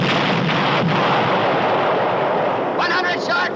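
Battlefield barrage from the 1955 war film To Hell and Back, a loud continuous roar of artillery fire with rumbling blasts, rushing noise and a few sharper bursts near the end.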